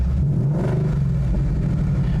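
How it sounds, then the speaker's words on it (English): A 2021 Ford Mustang GT Premium V8 gives a quick exhaust blip at a dealership, a deep, loud rumble that swells briefly and settles into a steady low idle, heard alone with no talking. "here is one little exhaust blip for you to kind of tide you over"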